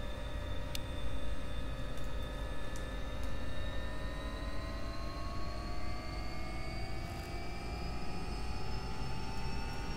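An AW-139 air ambulance helicopter spools up for takeoff in a flight simulator, its steady turbine drone carrying a slowly rising whine for the whole stretch, loud and close without pause.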